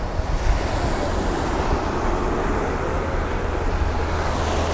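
Strong coastal wind at Cabo Pulmo, Baja California, roars steadily with surf, buffeting the microphone in a constant, loud rush for the whole stretch with no voices.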